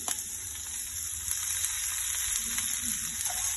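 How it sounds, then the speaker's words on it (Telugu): Onions half-frying in a pan sizzle with a steady, close crackle and occasional small pops, with no talking. "ఉల్లిపాయలు హాఫ్ ఫ్రై చేస్తామండి"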